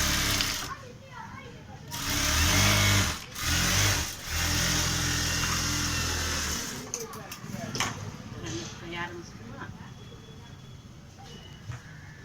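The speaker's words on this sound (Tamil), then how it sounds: "அதே மாதிரி ஃபுல்லாக ஒரு தையல் போட்டுக்கணும்" A sewing machine stitches a blouse sleeve, with loud whirring runs of a second or two broken by brief stops, followed by quieter handling and rustling of fabric.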